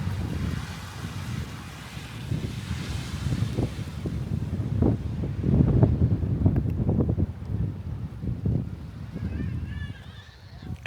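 Wind gusting and waves surging along an eroding coastline, a rough continuous roar with rising and falling swells, heavy wind buffeting on the microphone, and a narrating voice talking over it.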